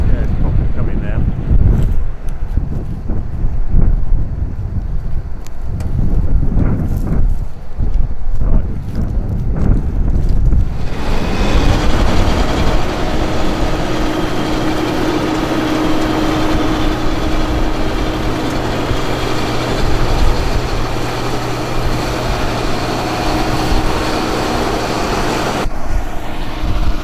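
A combine harvester works through a poor rapeseed crop, its engine and threshing drone loud and steady. It starts under wind-buffeted, gusty noise, then settles into a dense, continuous machine roar close by, with a voice talking at times.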